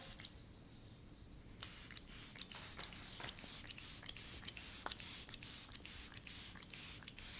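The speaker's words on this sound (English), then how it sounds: "I'm going to go ahead right now and use the Lancome Fix It and Forget It. I like to spray a setting mist." Lancome Fix It and Forget It setting mist sprayed in a rapid series of about a dozen quick, close, breathy pumps, each a short hiss, after a quiet lead-in.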